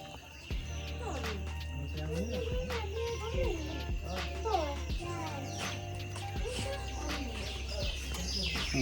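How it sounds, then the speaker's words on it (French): Many birds sing and chirp at a distance over dense Ecuadorian forest at sunset, their calls overlapping with varied tweets and whistles above a low steady hum, with a faint voice in the background. "On entend plein d'oiseaux au loin."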